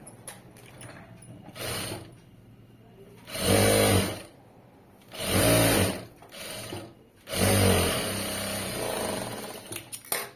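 A sewing machine stitches fabric at home in three loud, steady whirring bursts, each lasting about a second or more, with the last run the longest. Short quiet pauses fall between the bursts.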